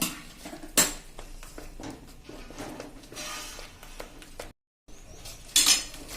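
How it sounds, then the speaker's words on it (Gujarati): A utensil scrapes and clinks against a pan while thick raw mango barfi mixture is stirred, with a few sharper metallic knocks, close and fairly loud, and a brief silent gap near the end. "એને આપણે આ રીતે થોડીક વાર હલાવી લેશું"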